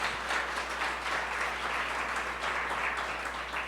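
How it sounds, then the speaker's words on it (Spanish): Church congregation claps together in a steady, even round of applause, a dense continuous patter filling the room with no voices standing out, against a low constant hum. "Dale otro fuerte aplauso al Señor para que te animes"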